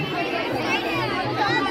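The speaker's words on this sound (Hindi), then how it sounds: "देखिए गाइस कितनी भीड़ है" Dense crowd chatter fills a festival where people carry water pots from the river before a fire walk, many overlapping voices close by in a steady murmur.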